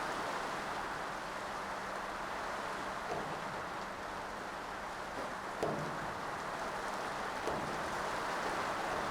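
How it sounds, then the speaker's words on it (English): Rain falling outside, a faint, steady hiss of drops with no clear rhythm, heard alone and constant throughout with a few soft knocks. "And now it starts raining outside."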